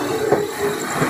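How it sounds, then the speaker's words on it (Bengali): A night train pulls into platform 2 at Jogighopa station, giving a brief, steady rail rumble with a soft thud partway through. "আমাদের ট্রেন যোগীর গোপা স্টেশনে ঢুকছে, 2 নম্বর প্ল্যাটফর্মে ঢুকছে"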